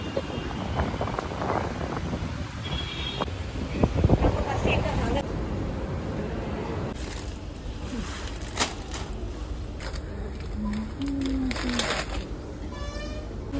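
Strong wind blowing outdoors on a skywalk, a steady loud rush buffeting the microphone throughout, with faint background sounds.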